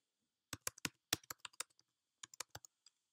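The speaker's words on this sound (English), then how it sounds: "go to your web browser, in this case Safari, and then type in YAM Display" Typing on a Mac keyboard into the Safari address bar, heard as two short bursts of crisp, close key clicks with a brief pause between them, alone in a quiet room.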